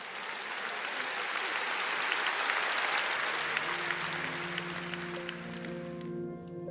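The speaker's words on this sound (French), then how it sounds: "Est-ce qu'on peut glorifier Dieu et l'applaudir pour tout ce qu'il va faire pour nous?" A church congregation applauding to glorify God: dense, steady clapping from a large crowd filling the room, holding strong for several seconds, then easing as sustained organ or keyboard tones rise beneath it.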